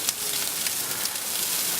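Sausages sizzle on a Eurostoves Culinarian griddle in a steady, close hiss of fat and crackle, with no voices over it.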